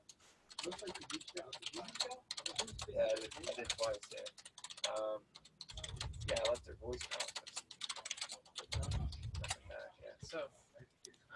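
Keys tapped on a computer keyboard while a memo is typed into accounting software, steady clicking bursts mixed with a person talking over them.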